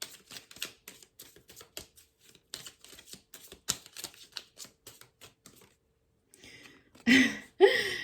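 Tarot clarifier cards are shuffled and pulled, a run of quick papery flicks and snaps in irregular bursts, then a brief pause and two louder rustles at the end.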